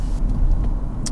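A BMW 218i Gran Coupé drives in sport mode, with a steady low engine and road rumble heard from inside the car and a brief click near the end.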